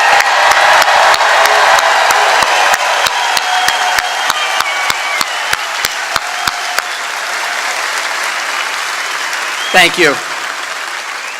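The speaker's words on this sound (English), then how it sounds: "let's give them a roaring sound of applause" A large crowd at a political rally in Columbus, Ohio, roars with loud, sustained applause and scattered sharp claps. The cheering slowly thins while someone briefly speaks near the end.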